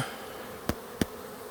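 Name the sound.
bees buzzing on a hive frame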